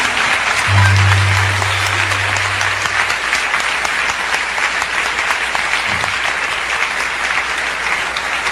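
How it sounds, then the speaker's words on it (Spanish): An audience in church breaks into sustained applause after a prayer, a dense, even roar of many hands clapping for several seconds, loud and continuous, with a low tone briefly at the start. "Él merece un aplauso"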